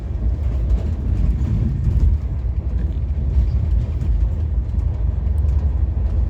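Train journey in India as another train passes alongside, a loud, steady low rumble and rattle of wheels and wagons filling the whole stretch.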